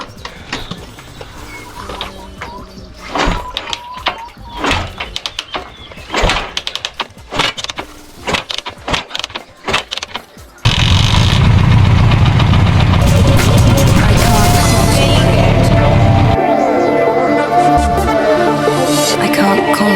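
A Suzuki GS 750 cafe racer motorcycle is kicked over several times with rhythmic mechanical clunks, then the engine fires and runs loud and steady, idling on for the rest of the clip.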